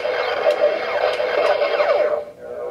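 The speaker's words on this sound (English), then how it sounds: "let me push the blaster so you can hear what that sounds like" Electronic whirring and zapping effects from a Power Rangers Beast-X electronic saber toy in blaster mode, a steady hum with sweeping tones and a few sharp beeps, close and fairly loud, cutting off near the end.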